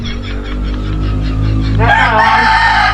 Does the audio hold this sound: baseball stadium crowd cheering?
no